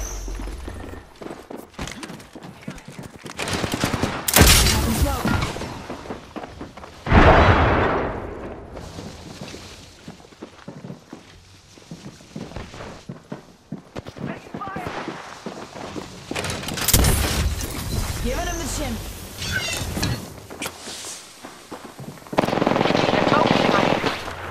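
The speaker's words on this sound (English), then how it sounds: "I'm getting shot! They're shooting at me?" Gunfire in the battle royale game Apex Legends rattles in repeated loud automatic bursts and single shots, close and intense, with someone talking between the volleys.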